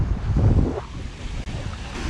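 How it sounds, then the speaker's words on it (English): Ocean surf at an inlet with an outgoing tide roars and washes with a rush of wind noise buffeting the microphone, the wave swell loudest early, then settling into a steady hiss. "Look at these waves, they're absolutely ripping."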